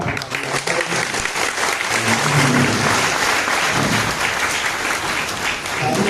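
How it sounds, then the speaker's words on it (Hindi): Sustained, loud audience applause at a tribal community gathering in the Constitution Club, Delhi, a dense wash of clapping filling the whole stretch with some crowd murmur beneath. "श्री बंधन दिग्गज जी को हमारे इस मंच की ओर से आमंत्रण एक बार जोरदार तालियों से"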